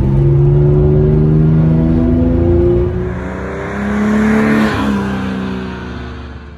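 A 1961 Jaguar E-Type, chassis number 5, fitted with a 1600 HP engine, accelerates hard. Its loud, rising engine whine climbs through the gears, then sweeps past with a swelling roar that fades away.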